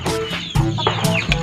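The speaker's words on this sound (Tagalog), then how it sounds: "Malaking manok." Chickens cluck close by in short, repeated bursts, a few sharper squawk-like calls mixed in, with no talking.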